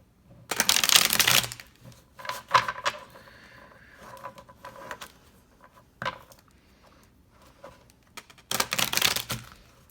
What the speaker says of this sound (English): I'm not a good card shuffler.